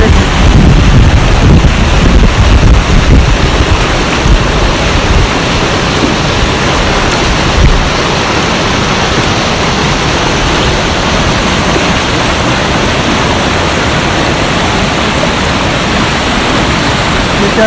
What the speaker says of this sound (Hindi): ऐसे पानी जा रहा है जैसे कोई पानी का दरा खोला हो।